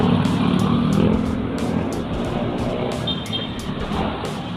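Big trucks and container vans rolling along a busy road near an off-ramp plaza, a broad rumbling roar of heavy traffic passing close, swelling and easing slightly with no voices.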